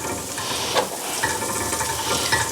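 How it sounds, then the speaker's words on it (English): Chapati fries in ghee on a pan with a dense, continuous sizzle, close and loud, with a few brief scraping stirs breaking through. "we're going to throw some ghee on the pan now as well"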